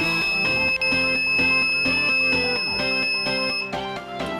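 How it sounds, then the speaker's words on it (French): A lightning detector's steady, high-pitched electronic buzzer tone holds for several seconds, then cuts off, over a busy layer of background music. "là le buzzer je le fais sonner longtemps"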